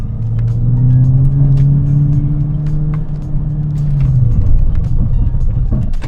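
A VW MK6 GTI runs a braking test from 40 mph: a loud, close engine drone holds steady, then drops off as the car slows to a stop, and a low rumble continues afterward.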